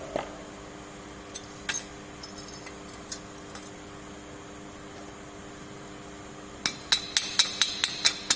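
Hammer chipping slag off an electric arc weld on steel joints, sparse single metallic taps at first, then a quick run of sharp ringing strikes near the end over a faint steady hum.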